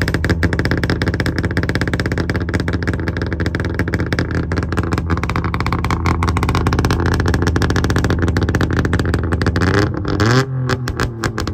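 The engine of a modified 1961 Saab 96 runs loud and close with a steady, buzzing two-stroke-style drone and fluctuating revs, dropping briefly near the end before picking up again.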